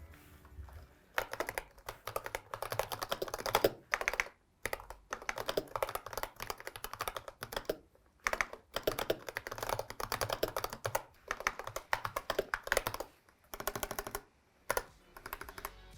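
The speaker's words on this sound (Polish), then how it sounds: "Razer stworzył tym razem naprawdę głośną klawiaturę" Rapid, loud clacking of keys on a Razer Huntsman V2 Analog mechanical keyboard, typed in quick bursts with brief pauses between them, recorded close up with no talking.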